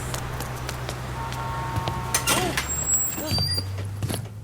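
A city bus idling with a low engine rumble, then letting out a sharp hiss of its air brakes as it stops, with the engine note shifting afterward.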